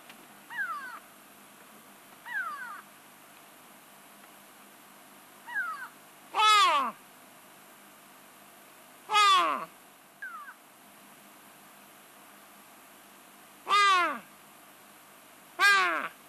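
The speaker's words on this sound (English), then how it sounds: "It's called a kweevoël in Afrikaans, or a koe bird, translated, and they can be very noisy" Grey go-away-birds (kweevoël) call in loud, harsh, nasal bursts, several spaced calls over a few seconds with softer lower calls between, outdoors with a light breeze.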